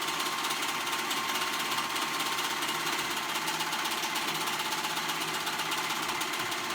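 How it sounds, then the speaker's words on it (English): A sewing machine runs continuously at speed sewing stretch stitches, its rapid mechanical clatter steady and close, with no pauses or voices. "go to your sewing machine and use the different kind of stretch stitches"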